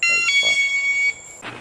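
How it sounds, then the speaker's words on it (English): A home alarm shrieks with a steady high electronic tone for about a second, then cuts off abruptly as it is smashed, with voices talking around it. "Here's John destroying my alarm."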